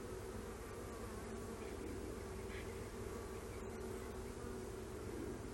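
Honey bees humming around an open hive with the queen among them, a steady low drone of many wings up close, quiet and continuous with no talking.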